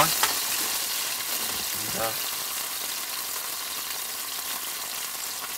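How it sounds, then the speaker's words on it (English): Mushrooms sauté in a pan for a steak's mushroom sauce, giving a continuous bright sizzle and frying hiss throughout, with a short spoken word midway. "Do you want me to saute these for you?"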